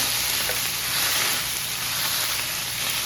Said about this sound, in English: let's give it a bit of a browning here